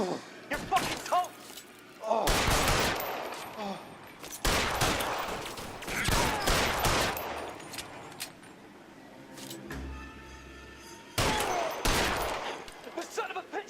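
Gunfire during a shootout in the video game L.A. Noire, with bursts of loud overlapping shots and a rapid volley, separated by quieter gaps, with voices shouting in between.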